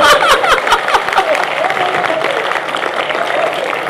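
Audience clapping at a Hindi mushaira poetry gathering at Kalkidham, Sambhal, a dense burst of applause in the hall that holds steady for a few seconds.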